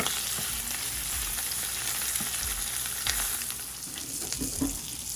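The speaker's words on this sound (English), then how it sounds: "So we're going to put it in the pan face down with the skin down." A salmon fillet sizzles skin-down in a frying pan, a steady close hiss of hot oil with occasional louder pops and spatters.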